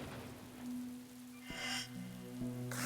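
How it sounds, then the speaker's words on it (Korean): Drizzling rain in a scene set on 30 April 1592, a soft steady patter of drops under sustained low musical tones, with a brief swell of noise midway and no voices. "비가 내리고 있었습니다."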